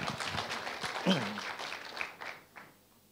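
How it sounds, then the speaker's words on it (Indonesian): A church congregation applauds during a Sunday service, a brief dense burst of clapping with voices underneath, tapering off quickly after about two seconds. "Tepuk tangan, jangan ragu-ragu"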